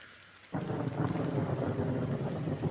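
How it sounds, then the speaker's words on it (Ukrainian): Rain falls over a soybean field as a steady, broad hiss that starts abruptly and continues evenly, with a low wind-like rumble underneath and no talking. "Отакий гарнюній дощик, тихий, спокійний."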